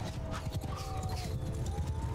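Cavalry horses galloping in the game Mount & Blade II: Bannerlord, a steady drumming of many hooves with snorts and battle noise layered in a dense, continuous din.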